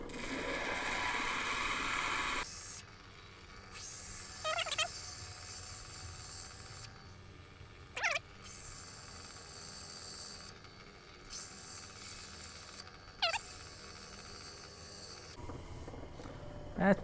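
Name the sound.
grinding a dragon blood stone cabochon edge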